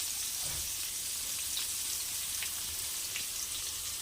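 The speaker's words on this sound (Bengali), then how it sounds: "তো এর মধ্যে দিয়ে দেব পেঁয়াজ কুচি। এটা ভালো করে ভেজে নেব।" Chopped onion sizzles quietly in oil in a pan alongside chopped garlic and split green chillies, a steady faint crackle with small pops and no talking.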